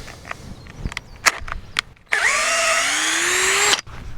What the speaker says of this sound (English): Could be this drill bit's dull too